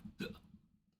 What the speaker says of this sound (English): Similar with the hiccup.